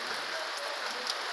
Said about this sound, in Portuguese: Ganhando muita intensidade a chuva.